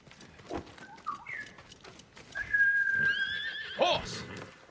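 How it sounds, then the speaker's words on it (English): Horse neighing in the video game Ghost of Tsushima, a pitched whinny rising and wavering over a couple of seconds, with scattered hoof sounds and other game noises around it. "Horse!"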